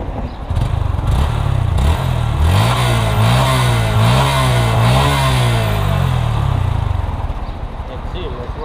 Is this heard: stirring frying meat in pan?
no